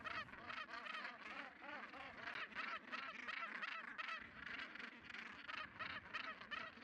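A huge Northern Gannet nesting colony of roughly 120,000 birds, filling the air with a dense, continuous chorus of harsh overlapping calls, loud and steady throughout with no gaps.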